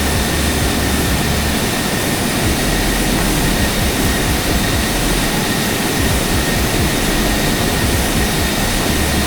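Airliner jet engines in the X-Plane 11 flight simulator throttle up on the runway, a loud, continuous roar with a high whine layered on top that stays dense and unbroken throughout.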